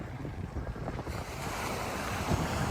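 Sea waves wash against the Kent coast between Broadstairs and Sandwich, a continuous rushing surf that swells slightly louder midway, with wind buffeting the microphone throughout.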